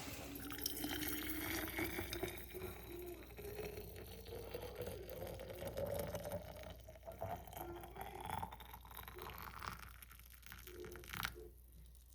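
Tap water runs steadily into a sink while dishes are washed, with soft splashing and faint clinks throughout, fairly quiet and close, with no speech.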